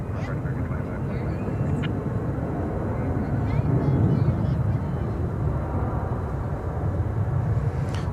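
Steady, heavy jet engine roar from airliners taking off at DFW Airport, broad and continuous for the whole stretch, with a person talking over it.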